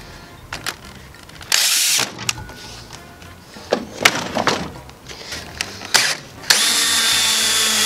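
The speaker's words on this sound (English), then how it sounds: "I pre-drill one hole on this one" A power drill pre-drills a guide hole in wood while a wall-mounted coat rack and shelf is built. Close, loud whirring comes in short bursts with a sustained run near the end.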